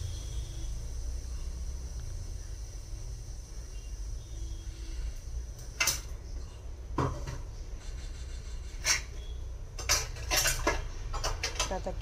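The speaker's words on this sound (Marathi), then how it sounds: "आता किचनची माझी साफसफाई चालू आहे." Dishes and cutlery clatter intermittently during home kitchen cleaning, with scattered sharp clinks and knocks over a steady low hum, no talking.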